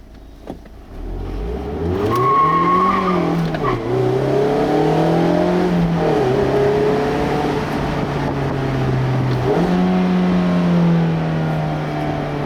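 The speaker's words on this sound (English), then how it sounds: "the Miata just dives right into corners" A lightweight 2016 Mazda MX-5 Miata engine revs hard and loud as the car is driven through corners, pitch climbing and dropping with each gear and throttle change, steady and close throughout with no talking.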